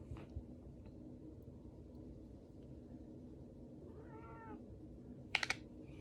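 A cat meows once, a short, moderately faint call midway through, over a steady indoor hum, followed by a couple of sharp clicks near the end.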